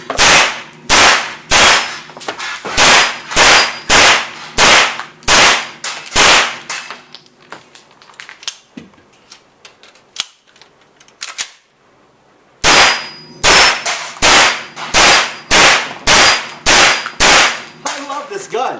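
Rapid bursts of loud, close gunfire from a Scorpion at an outdoor shooting range in the Czech Republic, two long strings of sharp evenly spaced shots separated by a quiet pause, with no talking.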